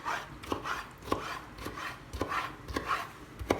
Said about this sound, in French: J'essaie de le couper des morceaux très très fins.